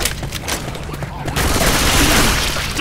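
Dense bursts of automatic gunfire from a Left 4 Dead 2 match on Blood Harvest or No Mercy, rapid shots swelling louder in the second half, with voices mixed in.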